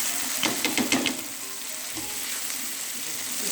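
Three tomatoes with red chilli, turmeric, salt and dried coriander frying in a pan for beef kofta masala, a loud close sizzle with a burst of clattering stirring early on, then steady frying alone.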